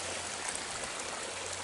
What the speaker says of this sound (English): there's just a little tiny bit of water right now that's just kind of riding on the top surface here that's kind of falling over the edge